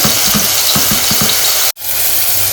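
Tomatoes, onion, chilli, mint and coriander fry in a pan, giving a steady close sizzle with some stirring scrapes, broken by a brief dropout near the end. No one speaks.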